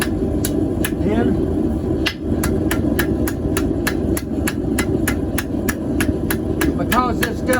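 A hammer strikes thin, hot steel on an anvil while a cooking hook is forged, giving a fast, regular series of loud metallic rings over a steady roar of forge blower or engine noise.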